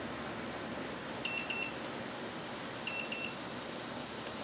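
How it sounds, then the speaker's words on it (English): Inkbird thermometer alarm at a smoker cooking elk tenderloin outdoors, two pairs of quick high electronic beeps separated by a pause, faint and off to the side over a steady background hiss. "can hear my thermometer going off there on the side."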